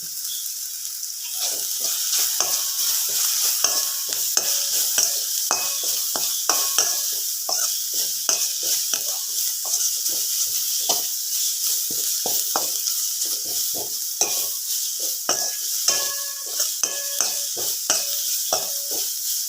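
Constant sizzling of ginger and green chillies frying in a hot pan, with frequent scraping and stirring clicks throughout, close and fairly loud.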